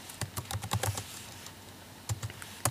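Keys clatter on a Mac computer keyboard, a quick burst of close, crisp clicks, a short pause, then a few more taps and a final keystroke, with no talking.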